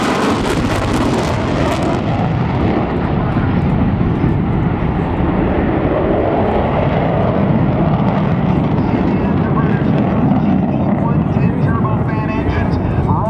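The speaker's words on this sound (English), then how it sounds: "Here come the Tomcats of the Gypsies in a pop-up maneuver." F-14 Tomcat jet fighters roar past in a pop-up maneuver at the NAS Oceana airshow in 2005, a loud, continuous broadband jet rumble that swells and fades, with crowd noise underneath.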